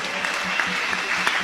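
A church congregation applauds at a service, steady dense clapping heard from within the crowd, with voices mixed in underneath.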